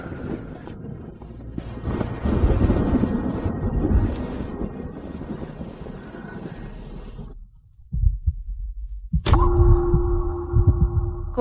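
Deep, rolling thunder rumbles loudly through a storm, then cuts to near silence before sharper crackling rumbles return. No one speaks.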